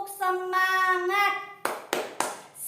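Children at an elementary school scout activity in Salatiga, Indonesia, do a 'tepuk semangat' spirit clap: three quick, sharp claps in rhythm after a long drawn-out sung voice, close and loud.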